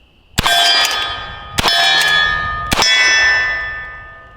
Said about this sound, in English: legitimately the impacts made on steel are louder than this gun